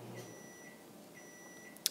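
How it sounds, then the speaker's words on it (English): A microwave oven gives a single short, faint electronic beep near the end of an otherwise quiet stretch of indoor room tone. "And that's my microwave beeping."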